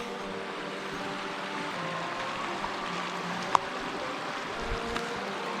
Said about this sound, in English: What a beautiful creek.